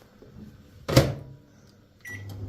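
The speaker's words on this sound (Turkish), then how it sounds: "Muzluktan çıkartmıştım da erisin diye mikrodalgaya koymuştum" A microwave oven thawing frozen food in a home kitchen, with a sharp clunk from the door or controls, then a steady low hum as it starts running.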